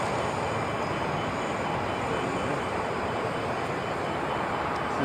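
A Legion Air jet airliner in Vegas Golden Knights livery at LAX gives a steady, unbroken broadband roar, loud and constant throughout with no voices.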